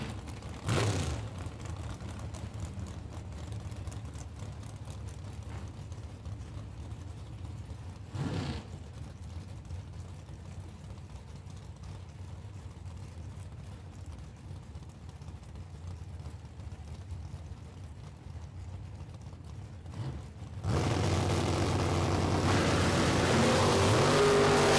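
Drag race engines of an Oldsmobile 442 and a Chevy Camaro drone steadily from a distance, with a sharp crack near the start and another around eight seconds, then a louder, fuller roar surging in toward the end.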